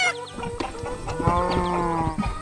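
Colourful chicken in an animated farm cartoon, clucking calls with harmonic tones over a busy backdrop of farm sounds and light music, moderately loud and close.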